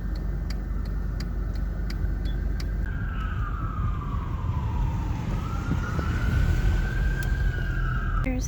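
A fire truck siren wails and slowly sweeps up and down in pitch from a distance, over the steady road rumble of snowstorm highway traffic, with intermittent faint clicking.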